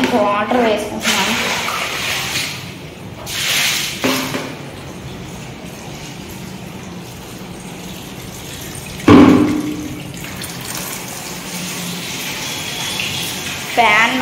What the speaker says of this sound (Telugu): ఇంకా వాటర్ వేసుకుంటున్నాను.